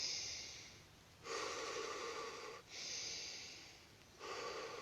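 Deep breaths drawn in and blown out during a breathing exercise at a lakeside morning wake-up session, with three slow, close, airy breaths and no talk.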